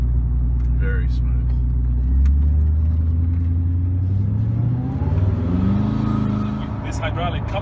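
Koenigsegg Regera engine climbing in revs with the clutch slipped, a smooth rising drone that swells steadily and stays loud throughout, with people talking over it inside the car.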